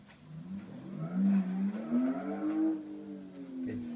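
A car driving in the racing game Live for Speed, its engine note climbing in pitch as it revs up through a gear, moderately loud and clear, then dropping off near the end.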